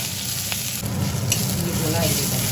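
Chili and ginger paste hitting hot oil with asafoetida in a pan, a loud, dense, close sizzle that swells and crackles steadily throughout, with a faint stir or two and no voices.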